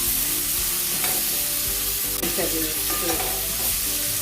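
Garlic sizzles and fries in a pan of Jamaican-style fricassee chicken, giving a loud, steady crackling hiss with occasional stirring scrapes throughout.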